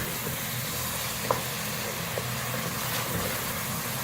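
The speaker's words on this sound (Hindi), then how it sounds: "अब चिकन को थोड़ा सा ग्रेवी के साथ भूनेंगे" Chicken pieces being sautéed in gravy for a turnip chicken curry give off a steady, soft sizzle with faint stirring scrapes and a light clink, close and continuous, no voices.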